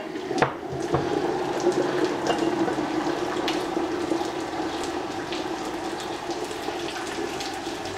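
Hot water from a freshly boiled kettle pours steadily with a splashy, trickling texture, close and continuous for several seconds, with no voices.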